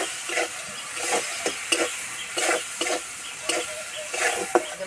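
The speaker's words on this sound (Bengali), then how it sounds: "অল্প একটু চিনি, অল্প একটু জল দিয়ে মশলাটা কষিয়ে নেব।" Spice paste with a little sugar and water frying in a pan: repeated scraping stirs at an irregular rhythm over a soft continuous sizzle, close by.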